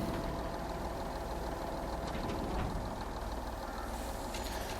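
Truck engine idling in Farming Simulator 22, a steady low rumble with a constant loud drone throughout, no voices over it.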